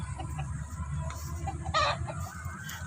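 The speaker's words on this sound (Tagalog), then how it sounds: "Putak-putak ang manok ko." A hen on a rural farm clucking, a few soft clucks and one sharper squawk partway through over low background rumble, close by and without speech.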